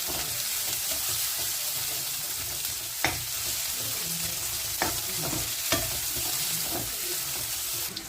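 Onions and green chillies frying in a pan for mutton curry, a steady close sizzle broken by a few sharp spatula scrapes and knocks, with no voices.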